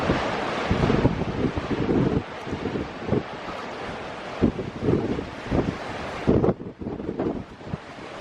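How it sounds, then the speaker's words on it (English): Heavy storm surf crashing and rumbling continuously against a Cornwall headland, with tall waves and strong wind buffeting the microphone throughout. "Look at that wave. It is so tall."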